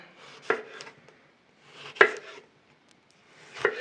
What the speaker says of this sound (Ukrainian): Салера, цибулька і петрушка. Нарізаємо такими кусочками.